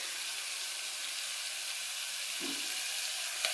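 Onions for poori curry frying in a pan give off a steady, loud, close sizzling hiss that continues without a break, with a faint low bump partway through.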